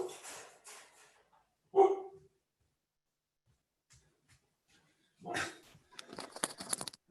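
A dog barks at close range in a home setting, with a loud burst near the two-second mark and a further flurry of sharper barks and noise toward the end, separated by near silence.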